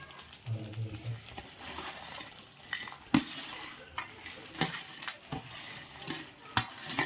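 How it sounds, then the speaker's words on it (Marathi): Paneer cubes stirred into a thick masala gravy in a pan, with a low cooking sizzle under repeated scraping and clinks of a metal spoon against the pan, a few sharper knocks standing out. "हे आहे पनीर आता टाकले गिरवीमध्ये पनीर"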